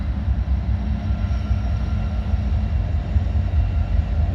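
A freight train hauled by an SD70 Ace locomotive rolling past, a loud, steady low rumble of engine and wheels that stays close and continuous with no gaps.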